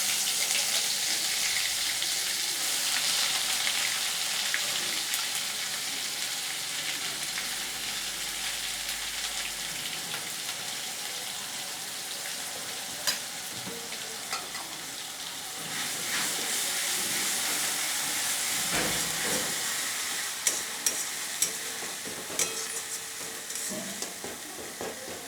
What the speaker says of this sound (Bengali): আমি এবার এখানে আমার পেঁয়াজ রসুন এবং লঙ্কার বাটা আছে, এর থেকে পরিমাণ মতো আমি দিয়ে দিলাম